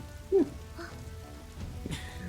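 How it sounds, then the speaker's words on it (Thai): Steady rain in Dynasty Warriors 8, a soft, continuous hiss of falling drops on the ground with a few faint clicks and thuds over the top. "ฝนที่ไม่หยุดตกเช่นนี้"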